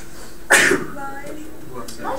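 A single sharp sneeze bursts out in a classroom during a geometry lesson, loud and close, followed by faint voices and murmured speech in the room.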